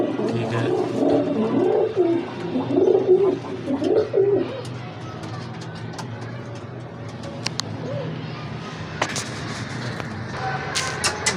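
Pigeons coo in a loft, soft throaty rolling calls repeating close by for the first few seconds before fading into quieter ambient rustle and occasional chirps.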